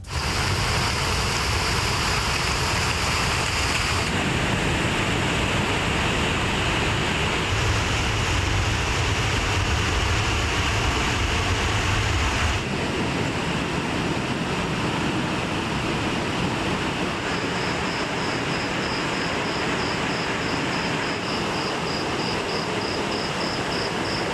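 Flash flood water rushing at Panchalinga falls by the Palar river near Thirumoorthy, a dense, steady roar of torrent that shifts in texture a few times across a long stretch, with no voices.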